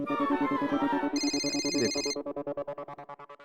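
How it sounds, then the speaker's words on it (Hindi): A bright electronic phone ringtone plays a repeating melodic pattern, then shifts to a pulsing beeping rhythm that continues steadily, close and clear. "मैदे का फोन है।"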